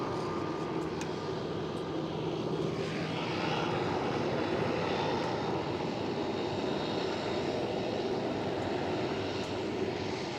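A steady, continuous roar of aircraft engines fills the air at Schiphol airport in Amsterdam, with a KLM Boeing 777-300ER waiting in the takeoff queue. The sound is loud and unbroken, with no voices heard.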